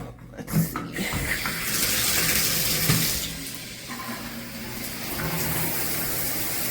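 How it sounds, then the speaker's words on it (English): Water sprays steadily from a Veken 11.8-inch rain shower head onto a surface, a continuous soft hiss that swells and eases slightly, close to the listener. "So the water comes out."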